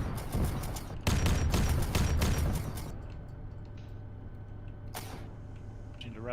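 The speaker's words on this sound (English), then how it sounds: "these autocannons are pretty solid. We're lighting them up." Rapid autocannon fire from Sentinel walkers in a Warhammer 40K mod for ArmA 3: dense, loud bursts for about three seconds, then quieter rumbling with a shorter burst near the end.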